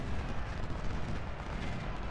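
Continuous low rumbling barrage of cannon fire from a Civil War battle in the strategy game Ultimate General: Civil War, dense and steady at moderate level with no distinct individual shots standing out.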